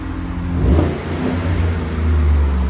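Up close, the 5.3L V8 of a 2017 Chevy Silverado LT fitted with a Borla Pro-XS exhaust gives a quick loud rev, a throaty low burble rising and settling, alone.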